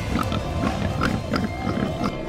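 A cartoon piglet in an animated Chinese zodiac short film gives a run of quick, close, snuffling grunts that pulse repeatedly over a dense background.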